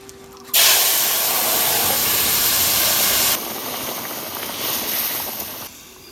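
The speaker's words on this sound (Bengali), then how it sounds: "এরপর তরকারিটা ফোড়নে দেবো।" A loud burst of sizzling and hissing as a curry for a thin fish stew of local magur catfish with unripe bananas is poured into hot tempering oil with bay leaves, sustained steam and spatter that shifts midway and lasts several seconds.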